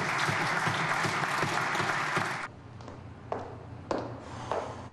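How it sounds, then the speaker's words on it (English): Members in the House applaud in a farewell, a dense, loud wash of clapping for about two and a half seconds that cuts off sharply, followed by a few scattered claps and knocks over a low hum. "join with that side of the House to give one round of applause to Ms."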